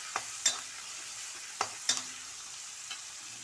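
Onions sautéing in a pan for chana masala, a soft steady sizzle broken by a few sharp scraping stirs of a spoon against the pan, quiet and close.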